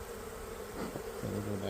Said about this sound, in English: So that one bee fanning